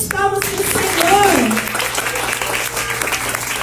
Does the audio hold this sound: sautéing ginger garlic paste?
no